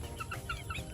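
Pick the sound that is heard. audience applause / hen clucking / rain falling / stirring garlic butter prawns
hen clucking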